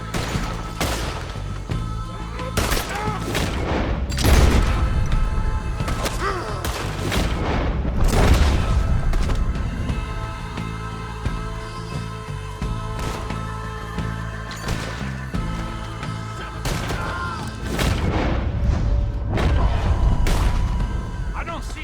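Repeated booming shots and crashes fill a Red Dead Redemption 2 firefight, loud and close, coming in clustered bursts across the whole stretch while voices talk and shout over them.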